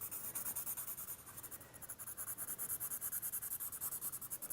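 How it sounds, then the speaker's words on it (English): A pencil scribbles quickly over sketchbook paper, close and fairly quiet, making a rapid, even run of rhythmic scratchy strokes with no talking. "Scribbling over the whole thing."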